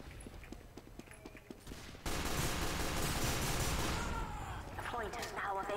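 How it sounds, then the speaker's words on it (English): Gunfire in Team Fortress 2, a few scattered shots at first, then a sudden loud sustained barrage of overlapping weapon fire and game noise that carries on to the end. "I shot you, Thomas"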